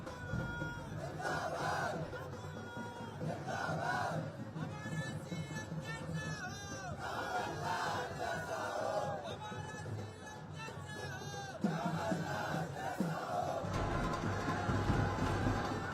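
A huge election rally crowd in Chhindwara for Kamal Nath's nomination, chanting slogans in loud waves, with drumming and a constant roar of many voices throughout.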